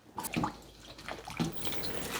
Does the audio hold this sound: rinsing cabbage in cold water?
yes